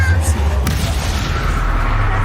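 Spell blasts from Confringo and Bombarda in the video game Hogwarts Legacy, a dense run of booming impacts and bursts layered over steady low rumble, loud and close with one sharp crack early on.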